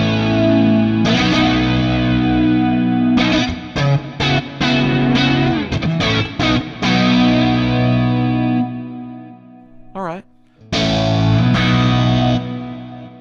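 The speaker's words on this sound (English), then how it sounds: "Flanger." Distorted electric guitar played through the flanger effect of a ToneX FX pedal, sweeping jet-like whoosh over strummed chords and a brief bent note, loud and close with short gaps between phrases.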